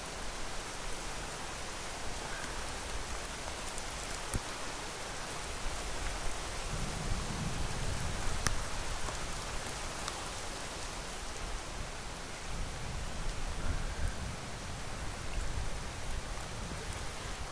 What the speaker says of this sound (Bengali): এইবার বৃষ্টি জোরে নামছে।